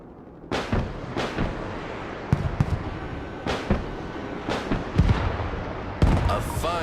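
Rapid bursts of anti-aircraft air defense fire from a short-range air defense system in the video game Broken Arrow, sharp cannon-like blasts in clusters over a steady rumbling battlefield background.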